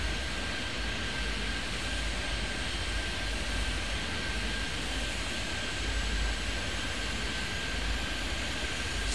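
Airplane taking off in the airport control video game Airport Madness 3D, a continuous loud engine roar with a steady whine, unbroken throughout.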